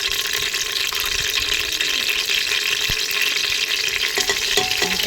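Curry leaves, bay leaf and whole spices frying in hot oil, a loud, dense, continuous sizzle with faint stirring scrapes near the end.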